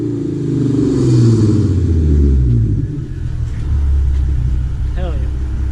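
V6 Ford Mustang with an aftermarket exhaust: a deep, loud engine rumble that swells with revs, eases off and then rises again, heard up close while people talk nearby.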